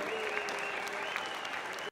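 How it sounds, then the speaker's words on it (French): Steady crowd applause at an industry award ceremony for the winning company Endress+Hauser, continuous clapping with a tonal hum underneath, cutting off abruptly near the end. "Merci, applaudissements s'il vous plaît pour Endreshauser."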